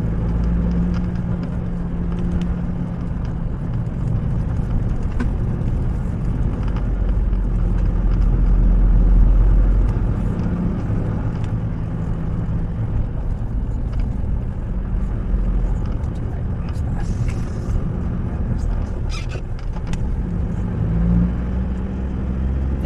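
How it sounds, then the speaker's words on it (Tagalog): A pickup truck engine pulls steadily in low gear up a steep uphill road, a continuous low rumbling drone with a slight swell near the middle, close by and with no one speaking over it. "Pero malakas naman tong ating pickup."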